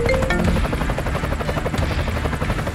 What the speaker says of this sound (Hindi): अरे ये तो करोड़ों का हेलीकॉप्टर है